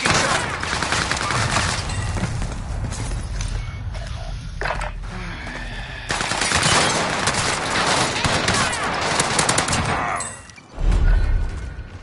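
Rapid gunfire fills a Call of Duty Warzone match on the Caldera map, with dense automatic bursts from an AK and a PPSh at close range, brief gaps, and a final heavy burst near the end.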